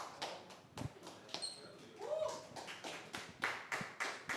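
Scattered, uneven hand claps from a small studio audience on an Indonesian football talk show, a few sharp strikes mixed with background noise and brief murmuring voices.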